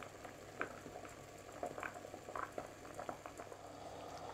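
Peppers simmer in a pot of vinegared water at a rolling boil, a faint, steady bubbling with soft irregular pops close by.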